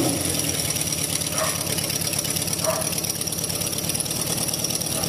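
A small custom motorcycle with heavy engraving idles steadily at close range, a continuous low mechanical thrum with a faint rhythmic knock running through the whole stretch.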